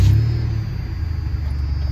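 A car engine runs at a low, steady idle after a dead battery, a continuous close rumble with no other sounds over it.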